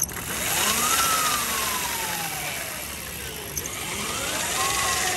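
Electric bike hub motor spinning on throttle, a whirring whine that sweeps up in pitch, glides down, then rises again under steady background hiss.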